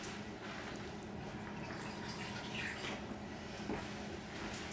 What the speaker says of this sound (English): we will put a drop more liquid